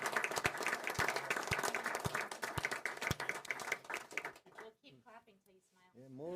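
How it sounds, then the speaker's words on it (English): Applause from a town council meeting audience for their police chief, with steady clapping and some louder close claps, fading out after a few seconds as a voice begins speaking over the quieter room. "We'll keep clapping till you smile."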